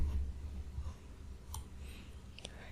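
A few sharp, faint computer mouse clicks, spaced apart over a soft background hum.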